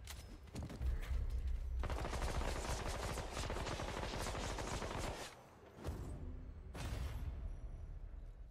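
Sustained rapid gunfire from weapons in the shooter game Remnant 2 underground, dense continuous bursts with a brief pause before firing resumes, loud and close.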